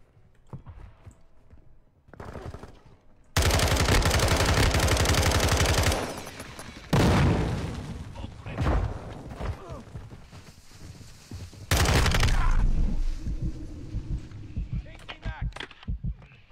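Call of Duty shotgun gunfire in a multiplayer match, loud saturated bursts of rapid shots in two long volleys with single blasts between, close up, with game sounds and a player talking intermittently.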